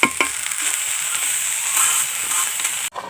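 Jackfruit seeds are roasted and stirred on a stove. A close, dry, steady sizzling hiss with faint scraping ends abruptly near the three-second mark.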